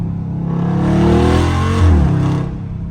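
A Dodge SRT engine in track mode revs hard and loud for about three seconds, a deep throaty roar rising and swelling with strong low harmonics before easing off slightly, heard alone without talk.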